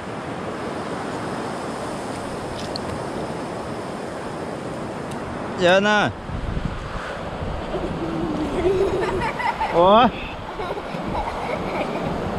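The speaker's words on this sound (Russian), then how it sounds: "Шторм сегодня, видишь какой?" Strong wind and crashing surf roar steadily, with a couple of brief shouts breaking through the noise.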